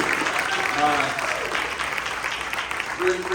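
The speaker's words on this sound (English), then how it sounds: "Let's have another round of applause for that panel and everyone that participated in it too." Audience applause for a panel at a recovery summit, steady and dense crowd clapping filling the whole moment at moderate loudness, with faint voices mixed in beneath.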